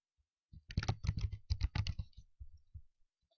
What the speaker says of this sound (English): Now I will type a subject.